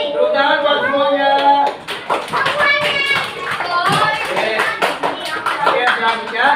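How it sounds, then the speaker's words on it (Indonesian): Children in a classroom clap in short bursts of quick, uneven claps amid lively young voices talking and calling out close by. "Tepuk tangan buat semuanya."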